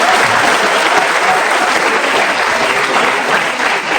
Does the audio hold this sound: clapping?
yes